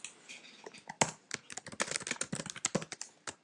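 Close, steady typing on a computer keyboard while entering a subheading in a web content editor, rapid clicking keystrokes in an uneven rhythm, with no voice.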